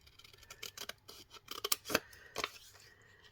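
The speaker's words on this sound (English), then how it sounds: "So I'm going to cut it along this fold line." Scissors cut a sheet of map paper along a fold line in a series of crisp, irregular snips, close up and quiet.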